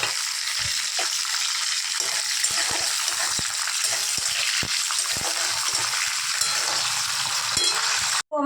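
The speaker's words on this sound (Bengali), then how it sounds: "আগে প্রথমে বাদামটা আমি ভেজে নেব" Peanuts fry in hot oil in a wok with a loud, continuous sizzle and occasional stirring scrapes. A brief click comes near the end.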